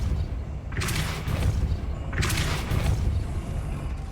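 Depulso spell cast twice in a Harry Potter video game, each a bright whooshing burst at about one second and again near two and a quarter seconds over a steady low rumble of game ambience.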